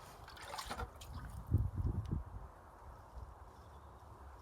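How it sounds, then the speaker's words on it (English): Water poured over direct-sown marigold seeds in a garden drill, a faint trickle and patter of liquid hitting soil in a couple of short bursts, otherwise quiet outdoor background. "Covering them up and give it a water"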